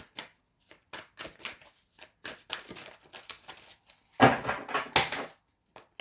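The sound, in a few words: shuffling tarot cards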